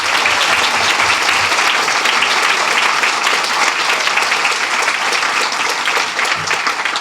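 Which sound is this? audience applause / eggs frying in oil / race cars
audience applause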